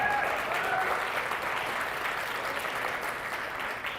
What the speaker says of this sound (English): So big applause for Bill